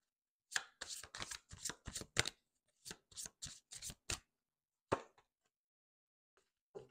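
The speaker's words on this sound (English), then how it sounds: "Okay, so I will pull for you three cards." Tarot cards shuffled by hand during a reading: quick bursts of papery riffling and slaps in a close, quiet room, then a pause and a single card drawn.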